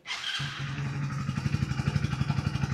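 A Hero Splendor Xtec 2.0 motorcycle starts and settles into a steady idle, its exhaust putting out an even low thumping pulse, close and fairly loud, with no talking.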